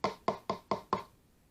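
Five sharp knocks on a door land in an even, quick rhythm, close and clear, then fade into silence.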